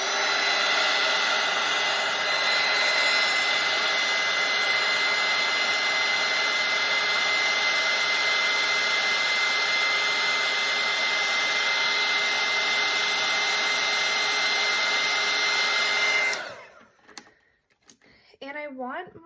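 A hair dryer blasts a steady, loud broadband whoosh with a constant whine over a wet-on-wet watercolor daffodil painting for about sixteen seconds, then cuts off abruptly, leaving quiet room sound and a brief voice.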